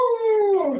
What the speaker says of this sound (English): Jolene, did I tell you we got a dog?